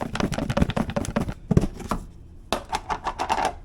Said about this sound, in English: I'm just going to put the lid on and give it a good shake, up and down, left and right.